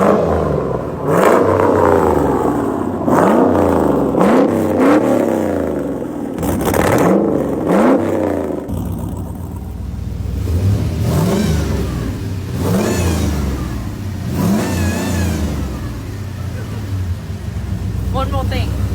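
The Fast 8 Ice Charger from The Fate of the Furious, a heavily modified movie car, revs its engine loud and close in repeated rising, falling surges with a rough clattering idle between them, and voices speak over the noise.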